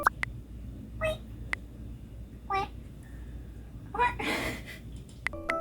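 A human voice imitates frog noises, with short croaks, squeaks and gurgling calls in scattered bursts separated by quiet pauses.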